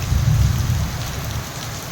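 Steady rain falling on a monsoon day, a dense even hiss with a low rumbling undertone, loud and continuous throughout the short stretch, with no talk.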